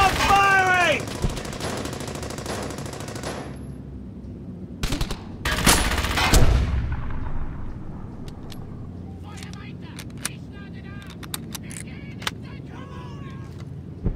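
Bursts of gunfire in Brothers in Arms: Hell's Highway: a dense volley at the start, then a loud blast, and scattered sharp shots later. Shouted voices come over the shooting.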